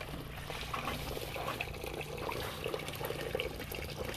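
Water overflows from a pot of rice outdoors, a continuous close trickling and splashing that runs steadily throughout with no talk.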